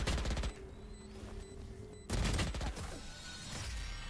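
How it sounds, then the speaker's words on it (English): Close, loud bursts of rapid automatic gunfire in the shooter game Valorant, one volley at the start and another after a short lull, with a faint electronic tone in the gap between. "He keeps using that gun."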